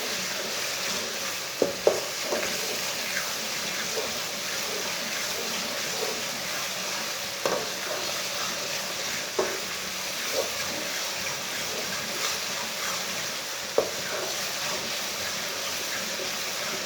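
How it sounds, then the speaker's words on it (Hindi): Chopped tomatoes and garlic frying in a pan for palak masoor dal, a steady, fairly loud sizzle broken by occasional soft clinks and stirring bumps. "टमाटर को थोड़ा सा भूनने से टमाटर हमारे गल जाते हैं"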